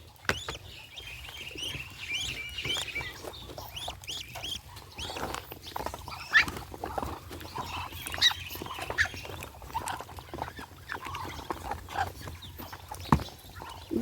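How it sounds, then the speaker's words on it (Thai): Newly hatched ducklings eating feed peck and chirp nearby, with scattered clucks and quacks from other poultry over a steady low background hum. "นี่ตอนนี้ลูกเป็ดใหม่ก็เริ่มกินอาหารแล้วนี่"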